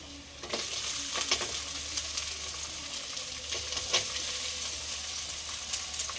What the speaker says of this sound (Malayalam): ഇഞ്ചി വെളുത്തുള്ളി ഒന്ന് ചതച്ചെടുക്കുക അടുത്തതിലേക്ക് ഒരു ചെറിയ സവാള അരിഞ്ഞു വെച്ചത്